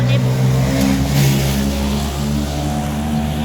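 A nearby engine drones loudly and revs briefly, holding a steady rumbling tone throughout.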